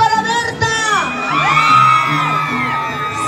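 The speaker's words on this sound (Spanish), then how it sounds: "A ver, chicas solteras, un grito para Berta." A party crowd of single women at a Peruvian cumbia show shouts and whoops together in a loud, sustained burst over band music, with rising whistling-like cries.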